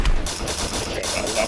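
Rapid gunfire from a video game on a Japanese game show where players fight riding crabs, a dense continuous burst of loud shots lasting over a second.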